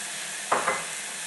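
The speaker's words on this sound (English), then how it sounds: "we just want to cook our onions down" Onions cook down in a pan over moderate heat, a soft steady sizzle with two brief louder stirring scrapes near the middle.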